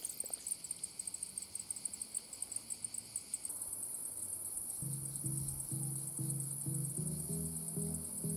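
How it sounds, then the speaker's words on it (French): Cicadas in open fields beside a campsite in France at morning, a rapid pulsing high-pitched trill that turns into a continuous buzzing whine, with faint stuttering lower chirps joining toward the end. "on se réveille tranquille avec les cigales"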